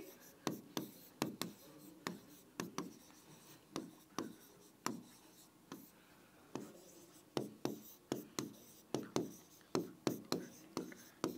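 Chalk or marker taps and scratches out notes on a board in a classroom, a string of short, fairly close strokes in irregular bursts throughout, with a teacher's voice talking quietly in the background.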